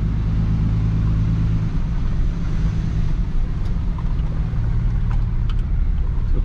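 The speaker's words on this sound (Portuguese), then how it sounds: "Passa bem devagarzinho aqui, que chacoalha bastante. Com o peso eu nem senti, vazia ela pulou bem mais." A loaded Dodge Ram pickup on 40-inch tyres creeps slowly over bumpy farm ground, its engine giving a steady, loud low rumble throughout, with a few faint knocks and rattles from the jolting.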